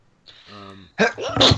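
A single sharp sneeze bursts out after a short voiced inhale, loud and close, with no other sound around it.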